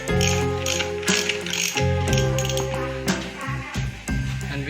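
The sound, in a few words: ratchet loosening strut bolts on Maruti car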